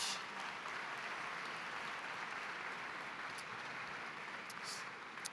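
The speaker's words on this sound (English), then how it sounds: "One more round of applause for our singers tonight" Steady applause from a gala audience for the evening's singers, a dense even wash of clapping at moderate distance that holds throughout without any talking.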